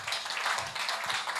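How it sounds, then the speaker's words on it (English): Audience applause at an event at a bank's main branch on Kampala Road, a dense steady wash of many hands clapping together for about a second and a half, fairly close and even in loudness. "A hand clap for Pamela, ladies."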